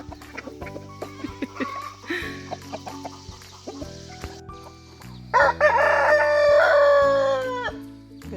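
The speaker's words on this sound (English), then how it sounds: "Look at that beautiful rooster." A farm rooster crows loudly and close, one long drawn-out call near the end, preceded by scattered clucking and other farmyard bird noises.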